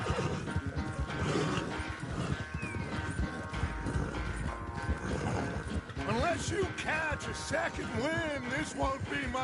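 In Red Dead Redemption 2, a horse whinnies in repeated wavering calls over the clip-clop of hooves, and a person talks during it.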